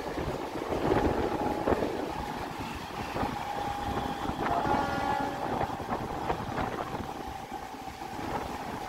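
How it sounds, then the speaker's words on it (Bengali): A Medinipur-Howrah local train runs along the line with continuous heavy rumble and rattling wheels, wind buffeting the microphone, and a horn-like tone sounding briefly midway. "এটা মেদিনীপুর হাওড়া লোকাল।"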